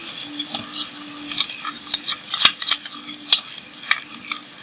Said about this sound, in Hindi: अब प्याज को गोल्डन होने तक फ्राई करते हैं।